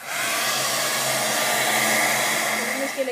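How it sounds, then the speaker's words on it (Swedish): A handheld hair dryer blows steadily on a screen printing frame, a continuous close whoosh with a high whine that runs without a break throughout. "så nu ska jag torka rommen så då använder jag denna fönen."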